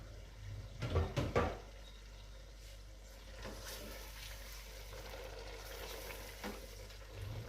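Chicken in masala left on low heat for a Shimla mirch chicken dish, giving a soft, steady low sizzle in the pan, with a few louder clunks of stirring near the start and otherwise quiet, even simmering.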